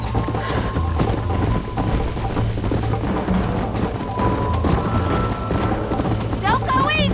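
Horse hooves clip-clop in a fast galloping rhythm in the Western video game Red Dead Redemption, running steadily under a voice and mixed with other game sounds and a short whinny-like sweep near the end.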